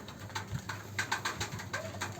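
Pigeons at a pigeon house give soft, repeated low coos in a steady rhythm, close by and moderately quiet, with faint chirps above them.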